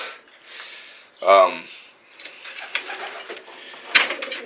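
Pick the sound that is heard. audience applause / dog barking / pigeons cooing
pigeons cooing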